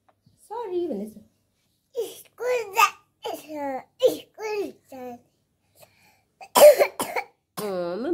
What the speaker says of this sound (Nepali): Why are you coughing again?